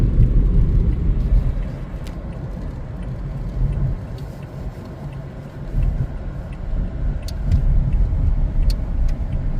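A car turning right into a parking lot after a McDonald's, heard from inside as a steady low engine and road rumble with slight swells, loud and continuous.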